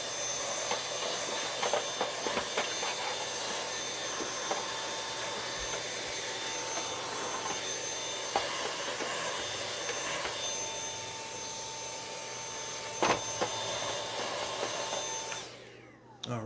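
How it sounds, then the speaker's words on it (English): A household vacuum cleaner sucking dust out of the inside of an opened Dirt Devil upright during a belt change, roaring with a steady airy whine and occasional rattling clicks of debris before cutting off at the end. "if you ideally have another vacuum, you can clean out all this dust while you're in here"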